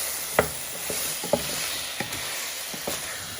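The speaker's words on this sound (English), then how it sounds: "you just want to give that a bit of a stir" Beef sizzles and fries in a pan with a black pepper marinade while a utensil stirs it, giving soft scraping taps at irregular intervals over a steady close hiss, with no talking.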